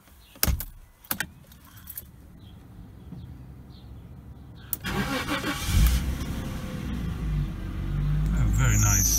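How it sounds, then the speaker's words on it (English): Keys jangle near the microphone, then a Jaguar XJ 3.2 Sport X300, unstarted for a week, cranks and catches around the midpoint, settling into a steady, loud idle that grows toward the end. "Let's just start the car."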